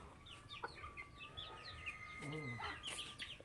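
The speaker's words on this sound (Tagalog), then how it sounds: "dinakip na yung mga manok niya dito. Lipat na doon sa kulungan niyang bago." Chickens clucking and calling after being moved into a new coop, several birds at moderate distance with repeated short clucks and a louder squawk, faint and partly overlapping, with quiet talk in the background.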